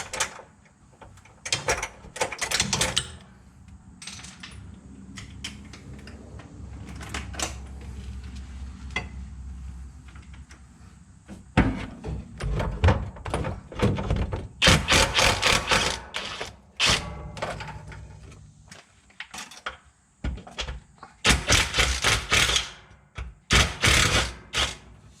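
Bolts holding the fuel tank standoffs are loosened under an F-body Camaro with 13 mm and 10 mm sockets, giving bursts of close metallic ratcheting and clicking with quiet handling gaps between them.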